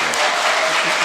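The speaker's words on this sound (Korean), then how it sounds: "우리 도삼열 목사님께 크게 박수" A church congregation applauds loudly for the pastor during a bilingual Easter service, a short burst of close, dense clapping.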